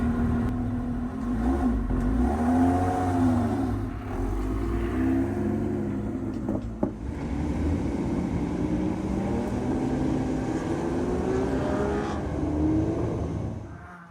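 A Lotus Emira rolls down the pit lane with a steady loud engine drone and a high supercharger whine layered over it, holding fairly constant with slight pitch swells and no speech.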